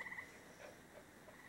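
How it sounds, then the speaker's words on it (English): Frogs croak and sing at night in summer, a faint, distant chorus of repeated calls with no voices over it. "We still get to go to sleep to frog song."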